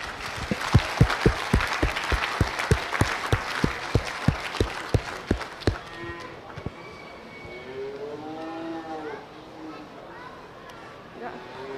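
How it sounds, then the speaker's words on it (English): An audience at a 4-H/FFA beef show claps for the young exhibitors, sharp separate claps coming fast for about six seconds before fading into a murmur of people talking in a large hall. "I would like the audience just to give these 4-Hers a round of applause"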